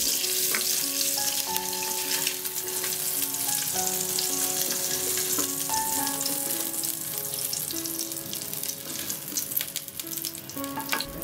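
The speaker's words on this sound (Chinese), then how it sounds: "虾仁翻炒变色后捞出" Shrimp stir-fry in cooking oil in a wok with a loud, dense, continuous sizzle and hiss, over light background music.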